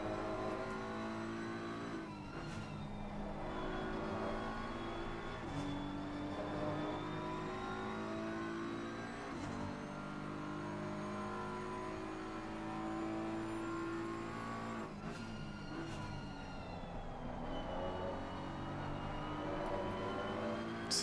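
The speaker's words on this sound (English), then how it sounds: "So the Ferrari is struggling a bit on acceleration." Ferrari GT race car accelerating through the gears in Assetto Corsa Competizione at Watkins Glen, a steady, loud engine drone rising and dropping in pitch with gear changes, continuous for the whole stretch with no voices.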